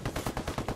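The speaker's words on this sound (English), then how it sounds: "somebody's shooting at me" Rapid automatic gunfire in a video game aimed at the player, a steady burst of about seven evenly spaced shots, close and loud, with no talk.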